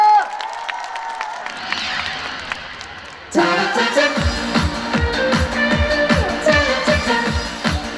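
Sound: audience applause at a concert

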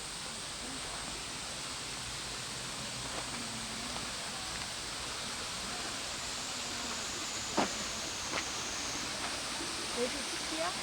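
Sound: Okyang waterfall at Baegaksan, Sangju

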